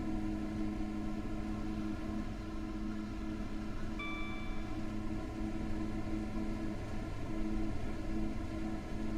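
Steady engine and running drone of a train the speaker is driving, with tonal hum layers throughout and a brief whistle-like tone around the middle, close and continuous with no talk.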